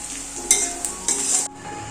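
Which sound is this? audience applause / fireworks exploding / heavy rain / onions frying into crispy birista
onions frying into crispy birista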